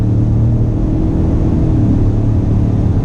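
Inside the cab of a 2019 Ford pickup under hard throttle, a low, even engine drone and road rumble hold steady throughout, with no speech.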